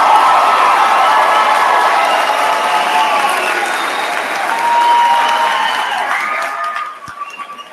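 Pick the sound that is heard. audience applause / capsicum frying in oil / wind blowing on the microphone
audience applause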